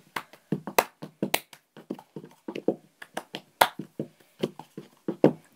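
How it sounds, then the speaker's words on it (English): Sharp hand claps and taps, part of a cup game, ring out in a quick, uneven rhythm, close and fairly loud, with no voices over them. "Second, you clap your hands."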